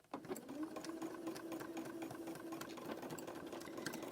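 A sewing machine back-stitching a fabric-wrapped rope coaster runs in a steady, close, continuous whir with small stitch rattles, briefly pausing at the start and then humming evenly without talk.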